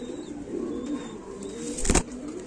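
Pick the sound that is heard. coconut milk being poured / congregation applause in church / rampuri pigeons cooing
rampuri pigeons cooing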